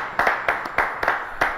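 Sparse, uneven handclaps from an audience applauding singers after a duet, a few loose bursts close by rather than a full ovation.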